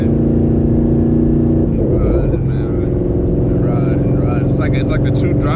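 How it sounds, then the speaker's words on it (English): A twin-turbo Boss 302 Mustang engine hums and rumbles with a brief surge in the middle, while a person talks over it. "I don't know if y'all can hear the sounds of the turbos"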